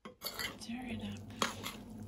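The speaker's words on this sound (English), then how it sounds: "Stir it up." A utensil stirs noodles in a bowl, making close clinks and scraping against the dish, with a sharper knock partway through and soft murmuring underneath.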